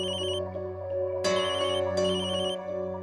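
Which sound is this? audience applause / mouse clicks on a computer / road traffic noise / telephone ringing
telephone ringing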